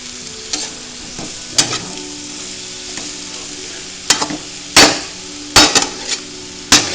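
Papaitan sizzling in a pan as it is stirred, a low continuous fry broken by sharp, loud clanks of the utensil against the pan, several coming in quick clusters.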